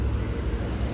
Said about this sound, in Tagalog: Maraming sasakyan pag umaga